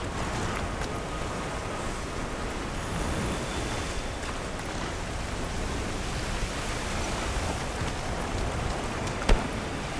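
Heavy downpour and surging water currents in the Monster Hunter Wilds video game form a steady, dense roar of rain that continues unbroken throughout, with no voices over it.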